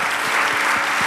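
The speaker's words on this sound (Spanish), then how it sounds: "Denle un aplauso, Señor." Church congregation applauding steadily and fairly close, a continuous dense wash of clapping with no talk over it.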